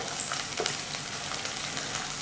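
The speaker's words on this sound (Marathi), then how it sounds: "तर आता हा लसूण आपण यामध्ये घालूया आणि ह्याला मंद गॅसवरच आता परतून घ्यायचंय।" Garlic frying gently in oil over a low flame, a steady soft sizzle running throughout with a few brief stirring clicks, close and alone with no voices.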